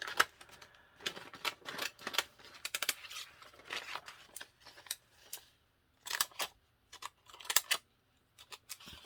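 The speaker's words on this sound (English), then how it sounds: "Just cut a portion of it out." Scissors snip through Gelli print paper in short, crisp bursts of cutting close by, pausing between strokes in an irregular rhythm against a quiet background, with no talking.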